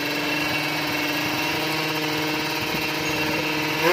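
Two-stroke Kawasaki Ninja 155cc drag bike engine at a drag race in Tondano, North Sulawesi, a loud, continuous high-revving buzzy drone holding steady pitch with a rising rev at the end.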